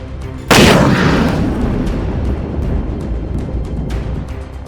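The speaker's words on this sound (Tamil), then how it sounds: "வெடிச்சிருச்சு." A country bomb, lit by a thread fuse, blows apart a snake's anthill with one sudden loud blast, followed by a long rumbling decay that fades over several seconds.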